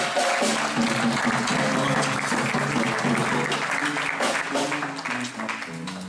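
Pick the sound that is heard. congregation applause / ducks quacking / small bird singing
congregation applause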